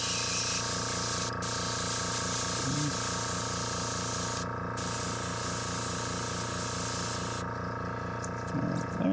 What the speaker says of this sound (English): I watched this guy clean his airbrush